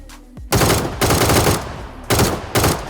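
Rifle gunfire in the video game PUBG rattles out in loud automatic bursts, three or four sustained volleys separated by short gaps, with no voices over the shots.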